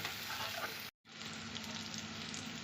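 Spice masala with chopped coriander leaves fries in a pan, a steady close hiss of sizzling that cuts out for a moment and then resumes.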